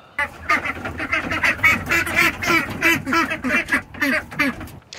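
Baby ducks at a homestead quack in a rapid, busy run of short calls, close and fairly loud, continuing for several seconds before stopping.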